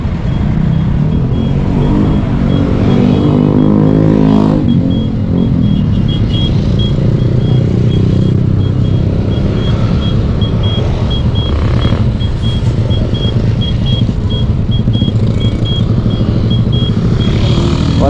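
Heavy highway traffic along MacArthur Highway in Bocaue, Bulacan, with cars and motorcycles passing in a loud, continuous rumble and engine drone for the full stretch, no voices.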